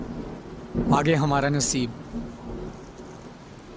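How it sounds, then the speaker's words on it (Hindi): Heavy rain and thunder form a steady, moderately loud wash and low rumble behind someone speaking briefly in Hindi, the downpour continuing on its own after he stops. "एक तो बारिश भी बहुत तेज हो रही है"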